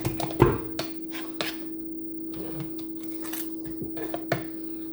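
A spatula scrapes thick chocolate cherry thumbprint cookie batter off a mixer, giving soft intermittent scraping and rubbing strokes with a few sharper knocks against metal over a low steady hum, close by and quiet.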